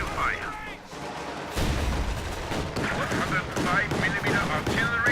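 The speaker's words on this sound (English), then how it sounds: "105mm artillery firing for length" 105mm howitzer artillery firing in the video game Company of Heroes 2, with repeated heavy booms and gunfire crackle in a dense battle mix, plus shouted voices and sirens.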